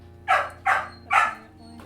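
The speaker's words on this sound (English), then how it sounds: "the dog's so fucking loud" A dog barks three times in an even rhythm, loud and close, each bark sharp and full over a quiet indoor background.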